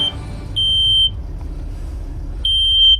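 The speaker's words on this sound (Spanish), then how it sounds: "supone que está pitando el CO2" A CO2 detector alarm inside an ambulance sounds two piercing, sustained high beeps, one early and one near the end, loud and close over a low hum, with no talking.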